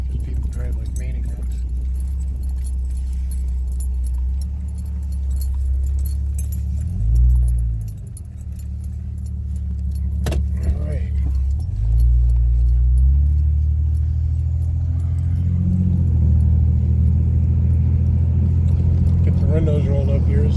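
A car backs out on a hill with its windows rolled up, its low engine rumble steady and close, rising and dipping briefly a few times, while someone talks over it throughout.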